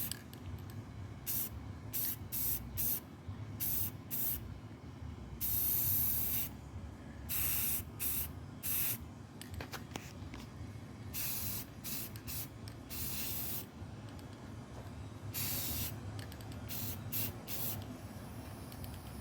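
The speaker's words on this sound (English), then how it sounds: "So you spray straight down" A spray gun hissing paint onto a guitar body for a burst finish, in repeated short and long bursts separated by pauses, near and fairly loud.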